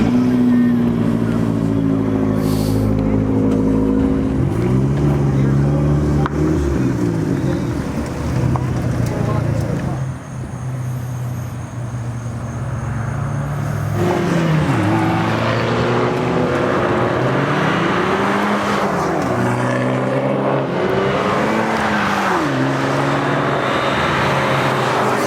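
An Abarth car accelerates hard around the Raceway Park race track, its engine note climbing and dropping in repeated sweeps with gear changes, loud and close throughout, with a voice speaking over it.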